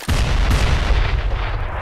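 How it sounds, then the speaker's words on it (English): Loud, dense explosive blasts from grenades in a first-person shooter video game, heard close and continuous for under two seconds. "See how the nades are flying in the air?"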